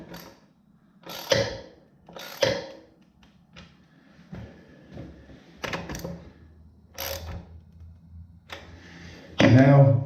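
Wrench turning a nut on a toilet bolt during a toilet install, giving scattered close mechanical clicks and ratchety taps in a quiet room, with a few louder knocks and a harsher burst at the end.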